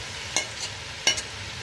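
Garlic and ginger fry in a pot with oil, giving a faint steady sizzle punctuated by a couple of brief stirring scrapes, alone without talk.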